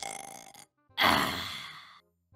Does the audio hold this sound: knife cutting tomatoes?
no